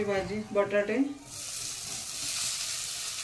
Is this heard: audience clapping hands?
no